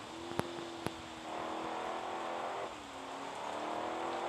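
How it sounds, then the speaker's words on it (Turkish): A car engine revs and accelerates in a racing game, a steady droning whine that shifts pitch partway through, preceded by two sharp clicks, fairly quiet with no voices. "Hemen gaza basıyorum."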